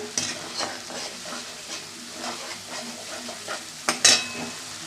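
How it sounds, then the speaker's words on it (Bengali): Spice masala sizzling in oil with cooked papaya nearby, stirred continuously, a dense close sizzle with repeated spatula scrapes and a sharper clink near the end. "ভালো করে আমার মশলাটা কষানো হয়ে গেছে। দেখো মশলা থেকে তেল ছেড়ে দিয়েছে।"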